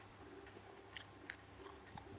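Someone chewing Sweet Sheets, a stiff paper-like candy sheet, with soft, sparse crunching bites and clicks close to the mouth against a quiet background.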